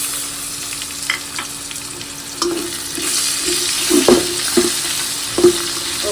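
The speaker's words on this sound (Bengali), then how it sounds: "পেঁয়াজটা ভাজা হয়ে গেছে, তো এখন আমি মশলাটা দিয়ে দেবো।" Spices go into browned onions frying in a pan for a chicken dish, with steady sizzling and several close scraping stirs growing busier toward the end.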